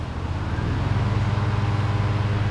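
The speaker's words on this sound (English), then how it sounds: "there's someone at a tractor behind me" A tractor engine runs behind a lakeside carp fishing spot, a steady low droning hum that holds at an even level throughout.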